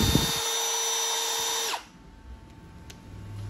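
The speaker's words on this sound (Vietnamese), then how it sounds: "Đây mình chỉnh lên khoan." A Milwaukee cordless drill switched to drilling mode runs close by at a steady, high-pitched whine, then cuts off abruptly and winds down, leaving a quiet room with faint handling noises.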